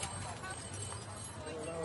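Show horses walking with hooves clip-clopping, a steady muffled background rhythm beneath continuous talk.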